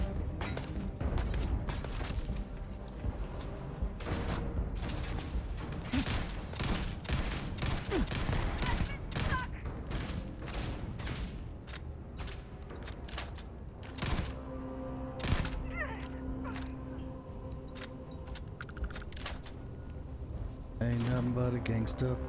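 Turret gunfire in the Starfield Shattered Space game crackles in dense, continuous bursts of rapid shots and booms, with a voice talking over the combat.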